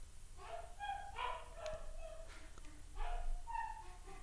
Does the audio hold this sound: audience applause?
no